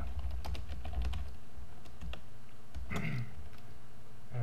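Rapid keystrokes on a computer keyboard while coding, an irregular run of sharp clicks at close range with brief pauses, heard alone without talk.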